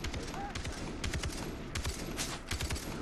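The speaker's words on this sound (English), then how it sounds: "I'm getting shot from behind." Gunfire rings out during Far Cry 3 co-op play as a string of sharp, rapid shots, distant and moderately loud, repeating in short irregular bursts over a noisy game background.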